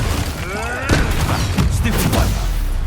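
Confringo fire spell in Hogwarts Legacy, a sharp blast thumping up from a low rumble amid combat noise, with a second burst following shortly after.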